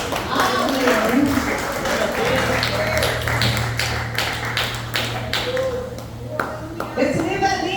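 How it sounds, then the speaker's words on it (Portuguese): A church congregation clapping their hands for Jesus, a loose scatter of claps at moderate distance, with a voice speaking over the clapping and a low steady hum underneath. "Pode se sentar dando palmas para Jesus"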